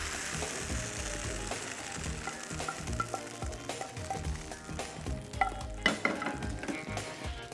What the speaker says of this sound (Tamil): கொஞ்சோண்டு கொத்தமல்லி ஆட் பண்ணிவிட்டு இந்த ப்ரானை நல்லா மிக்ஸ் பண்ணி சர்வ் பண்ண போகிறேன்